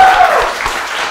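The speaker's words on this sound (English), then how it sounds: "one more round of applause for Scott Wiener" A live audience at a video game debate show claps for the judge, a short dense burst of applause that starts loud and fades quickly.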